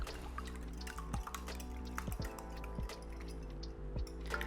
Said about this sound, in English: I'm now gonna add some bourbon, and I like to use Bulleit.